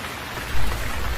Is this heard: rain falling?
yes